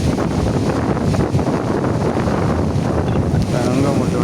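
Wind roars steadily over crashing sea waves as a cyclone batters the Sri Lankan coast, a loud, continuous broadband rush with surges of surf and no voices.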